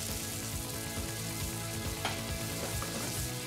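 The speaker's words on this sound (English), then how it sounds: "Bring that up to the boil and let it simmer for 3 to 4 minutes." Chicken simmering in stock in a pan: a steady bubbling sizzle, continuous and close, with soft crackles and no talking.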